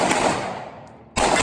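A burst of AK-47 gunfire strikes a Tannerite target outdoors, loud and close, fading into a quieter lull before a second sharp blast of noise returns near the end.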